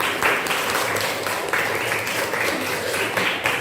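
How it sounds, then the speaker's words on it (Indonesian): Schoolchildren in a classroom clap together in a lively, uneven burst, with individual hand claps popping out of the steady patter at moderate loudness. "tepuk tangan dulu dong"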